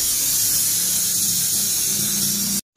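Refrigerant blasts out of a Mitsubishi L300 air-conditioning system in a loud, steady, close hiss that cuts off abruptly near the end, then briefly resumes.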